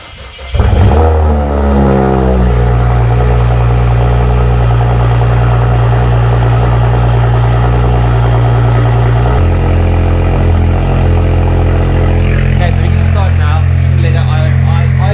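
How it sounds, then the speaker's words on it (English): A BMW 335i fitted with a single turbo cold-starts with a loud crank and catch, then settles into a steady, deep, rumbling idle that shifts pitch slightly partway through, close and dominant. "So I'm going to start the let her off idle for a while"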